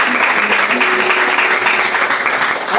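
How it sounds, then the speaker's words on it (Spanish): Congregation applauding during a Spanish-language church devotional service, a steady dense clapping that holds evenly for about three seconds with no break. "vamos a darle un aplauso al Rey de Reyes"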